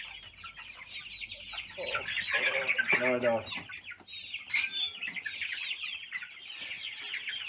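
Chickens cluck and chatter steadily near an incubator setup on a farm during a power outage, with a busier flurry of calls midway. A voice briefly speaks over them.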